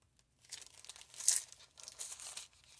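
Small crinkly plastic baggie being worked open by hand, with close, faint crackling and crinkling in irregular bursts and a sharper tearing crinkle midway, no speech.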